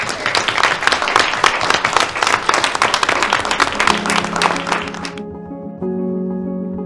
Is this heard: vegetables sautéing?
no